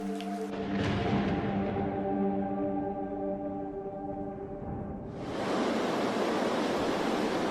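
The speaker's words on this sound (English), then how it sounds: "For months, torrential rains soak the Western Ghats." Torrential monsoon rain pouring over the forests of the Western Ghats, a dense, steady roaring wash that swells louder and brighter partway through, with no voices.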